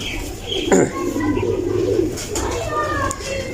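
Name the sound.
pigeons cooing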